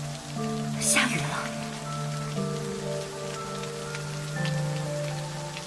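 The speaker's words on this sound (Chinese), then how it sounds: "下雨了。" Rain falls steadily in a period drama scene, a continuous soft patter on surfaces beneath sustained background music, with no speech.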